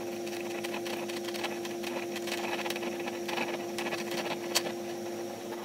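An aluminum pulley bolted to a table saw shaft is turned flat against a tool rest, producing a steady motor whine with a constant hum and light, scraping cutting chatter throughout, moderately quiet.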